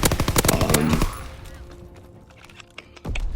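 Rapid bursts of PPSh submachine gun fire in Call of Duty WW2, loud and dense for about a second, then trailing off into quieter ambient game noise with a few scattered distant shots and a final burst.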